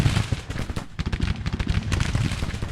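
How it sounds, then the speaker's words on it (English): Artillery and volley fire in the Civil War strategy game Grand Tactician, a dense, continuous crackle of overlapping gunshots and booming cannon reports, loud and unbroken throughout with no talking. "He's bringing his artillery forward. He's going to give us some close range fire."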